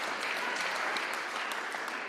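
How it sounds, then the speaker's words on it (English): Applause from an audience at a high school National Signing Day event, a dense, steady wash of clapping filling the whole stretch at moderate loudness with no talk over it. "give yourselves a big round of applause for all that you've done to help these guys get to this position"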